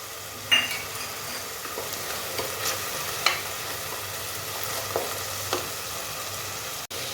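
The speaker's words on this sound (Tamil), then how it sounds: "இந்த தக்காளி சாதத்துக்கு தேவையான அளவு உப்பும் சேர்த்து நம்ம அப்படியே வதக்கலாம்." Spices, chili powder, turmeric and salt sizzle in hot oil for tomato rice, with a steady frying hiss and a few stirring scrapes and clinks of a spoon against the pan.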